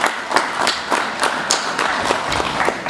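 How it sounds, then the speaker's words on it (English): An outdoor audience at a commercial farmers' field day at the Rattray Arnold Research Station claps: sharp, fairly close hand claps repeat at an even pace over a light background hum. "So I think you deserve to give yourself a round of applause because you did incredibly well."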